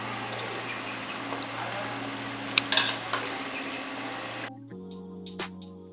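Masala paniyaram frying slowly on a low flame gives a soft, steady sizzle with a faint hum underneath and a few small clicks, ending abruptly near the close.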